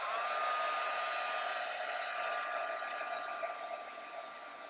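A heat tool blows steadily and loudly for nearly five seconds, drying freshly stamped ink on a card, with a constant airy roar and a high whine that stays level throughout, no voices.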